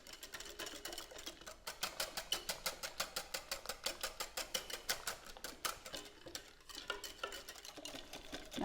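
Chocolate ganache whisked briskly in a bowl: a fast, even rhythm of close wire strokes tapping and swishing against the sides, steady for several seconds before loosening slightly, no talking.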